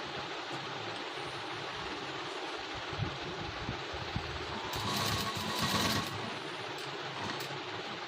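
Sewing machine stitching fabric piping with a light, even feed: a steady, dense mechanical whirr runs continuously throughout at moderate level, with a slightly louder, busier stretch partway through and no talking.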